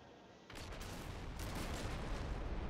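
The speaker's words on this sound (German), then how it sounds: "immer wenn man hinfährt, explodiert es einmal" An explosion in the video game SWTOR sets off inside an apartment, a sudden loud blast that rolls into a sustained roaring rumble filling the rest of the moment.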